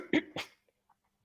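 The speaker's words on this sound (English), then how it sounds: "I'm sorry for coughing right before that." Two quick coughs close to the mic during a podcast recording, followed by a short pause and a brief third burst, alone without talk.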